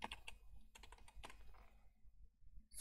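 Fast typing on a computer keyboard entering a folder name, quiet close key clicks in quick irregular bursts with short pauses.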